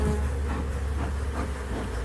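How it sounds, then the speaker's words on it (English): Honeybees buzz steadily and close up as they crawl over people in a Florida setting, a dense continuous drone with no pauses. "It's a different feeling when you have bees walking all over you."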